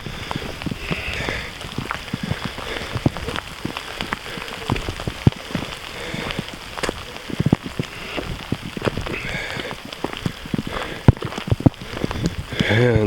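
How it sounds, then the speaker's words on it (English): Rain pattering steadily on a hiking trail and striking a camera, with dense irregular drop impacts close to the microphone throughout, on a wet, swampy mountain trail near Kelowna, BC. "Trying to keep the lens tilted down so rain doesn't get into it too much."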